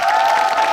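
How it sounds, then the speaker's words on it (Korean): A film-screening audience at a CGV cinema in Apgujeong claps to welcome an arriving actor, a brief dense burst of crowd applause heard up close. "큰 박수로 환영해 주십시오"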